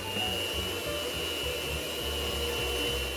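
An electric hand mixer whirs steadily as it beats eggs, sugar, grated carrots and oil together for a Brazilian carrot cake batter, a continuous close motor drone with no talk over it.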